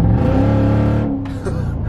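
Nissan Titan truck with a VK56 V8 and a new aftermarket exhaust, revving with a deep, loud, throaty rumble that swells then eases off, heard close up.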